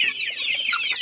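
A chicken clucks in a short, close, bright run of calls with no other sound.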